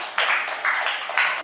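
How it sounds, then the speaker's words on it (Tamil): A class applauds students in three short bursts of clapping, fairly close and loud, with no talk over it. "இவங்களுக்கு ஒரு கைத்தட்டல்."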